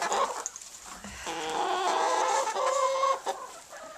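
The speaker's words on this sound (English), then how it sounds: "Now here I have my hens." Hens clucking inside a backyard coop housing 26 hens and one rooster, several birds overlapping in a steady, close chorus of clucks and squawks throughout.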